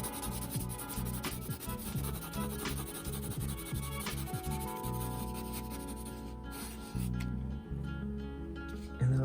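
Colored pencil blended over paper, a steady scrubbing rub that keeps going without a break for the whole stretch.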